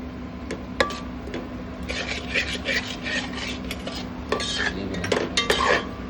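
A spoon scrapes and stirs a spice mixture of turmeric, garam masala and red chilli powder in a metal cooking pot for pulao, with steady rasping strokes and a few sharp clinks of utensil against the pot, close and fairly loud, with no speech.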